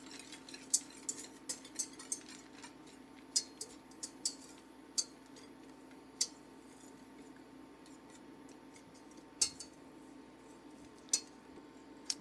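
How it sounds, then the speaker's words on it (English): Faint metallic clicks of a whisk against a pot while stirring a cocoa powder mixture for hot fudge, scattered irregular ticks over a low steady hum. "And we can give it an initial whisk just to help it combine."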